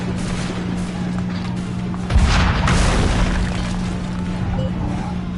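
A single loud cannon blast booms in the video game Assassin's Creed 3, rumbling over a steady din of battle ambience before fading back into the background noise.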